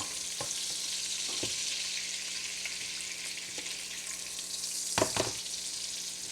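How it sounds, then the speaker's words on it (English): Cabbage frying in sausage grease in a skillet: a steady, close hiss of sizzling fat runs throughout, with a few soft stirring scrapes and a short clatter near the end. "the grease is what we're going to cook the cabbage in"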